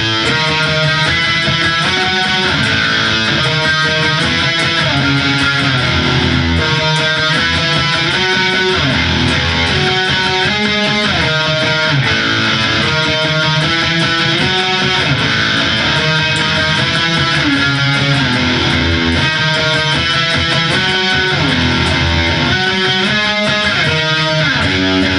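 An electric guitar loudly strums the chords of a song up close, a full, continuous rhythmic chord progression with no talking.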